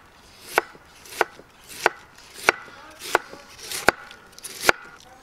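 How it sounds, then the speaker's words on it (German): A knife slicing a head of red cabbage into fine strips on a board, seven crisp regular chops about two-thirds of a second apart, close and clear with little else around. "man kann es wie wir hier ganz fein in Streifen schneiden"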